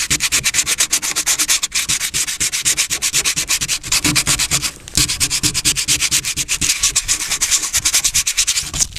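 40-grit sandpaper roughs up a dented car body panel by hand. Loud, close, rhythmic back-and-forth rasping strokes run steadily with only a short pause.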